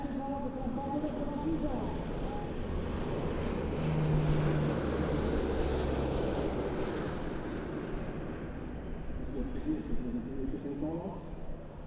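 A Polish Air Force C-130 transport aircraft flying a display at an airshow, a sustained, fairly distant propeller drone that swells and fades over the whole stretch.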